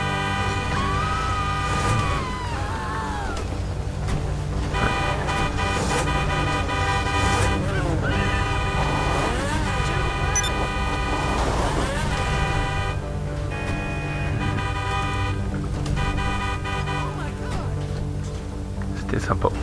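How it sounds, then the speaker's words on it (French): A Franco-American car gathering of many vehicles, car horns blaring in sustained overlapping blasts with layered tones, loud and close, with engines and people talking underneath. "Tout le monde va klaxonner."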